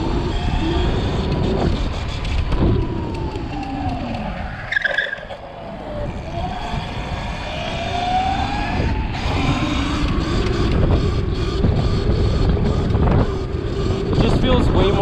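Sur Ron electric dirt bike with a Magura electronic throttle being ridden, its motor whine rising and falling steadily through the ride, with continuous wind buffeting and a brief dip in the middle.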